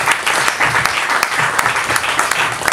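A crowd claps together at a health press conference, a dense, steady patter of applause lasting a few seconds, close and fairly loud.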